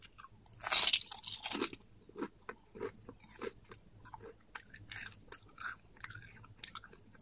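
Crunching on Biei potato chips in Bell Foods jingisukan sauce flavor: a loud crisp bite at the start, then a steady run of softer, evenly spaced chewing crunches, close up, with no talk.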